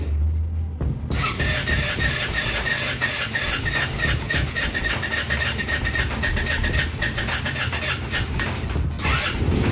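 A Honda W150 motorcycle engine cranks on its electric starter in a long, continuous rapid churning after a brief pause, loud and close, with no talk.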